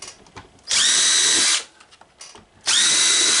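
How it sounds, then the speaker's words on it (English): A power drill bores 1/8 inch holes in a box, two loud sustained whining bursts separated by a short pause, heard close and alone. "I may have to go to a one size bigger drill bit for drilling those holes."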